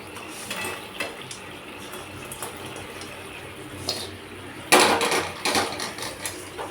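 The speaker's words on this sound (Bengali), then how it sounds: "আর এখানে না মাংস পকোড়াগুলো ঢেলে দিই।" Meat pakoras tipped into sauce in a cooking pan, heard as a sudden loud splashing, clattering burst, followed by softer wet sloshing after a stretch of quiet kitchen clinks and taps.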